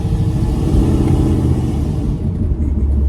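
Inside a moving car, a low grumbling axle or bearing noise from the rear rumbles continuously beneath steady road and engine noise, with no voices.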